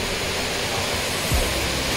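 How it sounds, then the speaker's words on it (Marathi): Water flowing steadily near a foggy mountain trail on the trek to Tiger's Nest Monastery in Paro, Bhutan, in light drizzle: a continuous broadband rush that stays even throughout, with no voices. "तुम्हाला पाण्याचा मस्तपैकी आवाज येतो का इकडे?"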